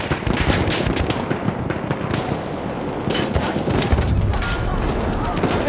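Enemy machine gun firing in a Battlefield 1 battle, rapid sustained bursts of gunfire crackling loudly amid surrounding battle noise, with voices calling out over the shooting.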